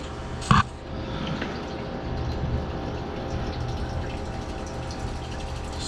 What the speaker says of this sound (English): Still pumping away.